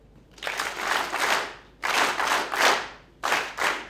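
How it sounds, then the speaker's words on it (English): An audience at a university public lecture claps in three separate bursts, each swelling and fading, the first two long and the last shorter. The applause is close and fairly loud, with no talking over it. "So can we clap?"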